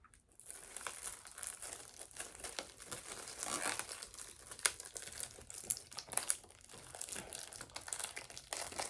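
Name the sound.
tearing cling wrap off a package by hand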